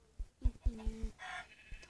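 A chicken in a video game clucks in quick bursts, a few short tonal calls in a row followed by a brief higher squawk, clear and close.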